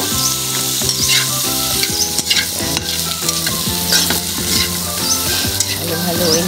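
Chili stirred and fried in a pan give a loud, close sizzle broken by repeated scraping stirs and clinks of utensil on metal, with no voices.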